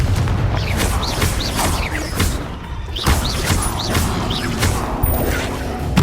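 Confringo blasting spell explosions in the Hogwarts Legacy video game amid a dense, loud battle, with rumbling booms, crashes and whooshing spell effects layered continuously.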